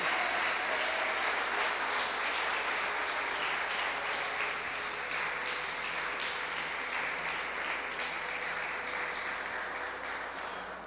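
A church congregation applauds during a sermon, a broad, sustained roar of clapping from many hands that holds steady and fades slightly at the end, with no voices over it.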